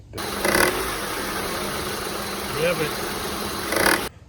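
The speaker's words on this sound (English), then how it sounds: "I start the vehicle up, and I hear this sound. Tick, tick, tick, tick, tick, clattering sound." A Honda CR-V engine idling close by, with a low ticking mechanical clatter from a faulty belt tensioner and a few louder surges; no clear voice over it.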